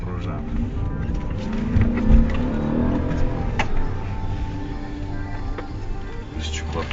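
An Audi A8 4.2 drives and accelerates, its engine a low, steady hum that rises and falls slightly while people talk over it throughout.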